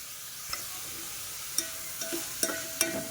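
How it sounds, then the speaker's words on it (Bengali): Vegetables with green chillies and salt lightly frying in a pan for chicken soup, a soft steady sizzle with a few sharp clicks of a spatula stirring, close and quiet, without speech. "সব কিছুকে হালকা করে একটু আমি ভেজে নেবো, পুরোপুরি ভাজবো নি"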